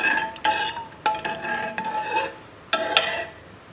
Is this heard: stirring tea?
yes